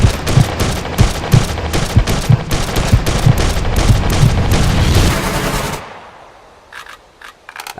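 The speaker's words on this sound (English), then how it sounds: "The second example shows how well a character can control the recoil of the rifle" Rifle fire in the open-world survival game SCUM: a rapid, loud burst of repeated shots for about six seconds, then a sudden stop leaving a few faint clicks.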